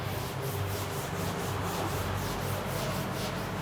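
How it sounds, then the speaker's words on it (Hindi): A steady, faint, dry rubbing sound continues evenly throughout with a soft rhythmic scrape, and no voice is heard over it. "देखिएगा रब कर रहे हैं।"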